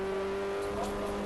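Ford Fiesta race cars in a championship race pass on track, with steady engine drone and tones that shift in pitch as the cars go by, fairly quiet and brief.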